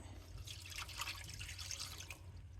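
Water poured into a frying pan holding pork skin pieces for pub-style pork scratchings: a close, steady splashing pour lasting about two seconds, with no talking.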